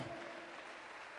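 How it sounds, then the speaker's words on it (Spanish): A church congregation applauds during a Spanish-language sermon, giving a faint, steady wash of clapping that sounds distant and low in level throughout. "Dele ese aplauso al Señor."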